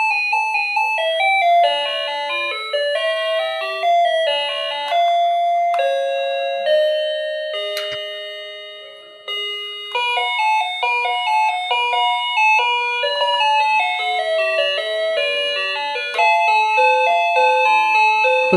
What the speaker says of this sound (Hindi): अब इसके बाद ये हम बटन दबाते हैं तो इससे हम अलग अलग बेल बदल